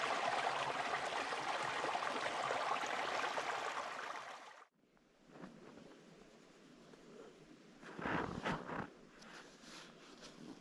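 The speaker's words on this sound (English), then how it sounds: "Had the sounds of the creek going on." A creek flows beside a backcountry campsite on the Washington Backcountry Discovery Route, a steady, full rushing of water for several seconds before it cuts off abruptly to a quieter background with brief close rustling.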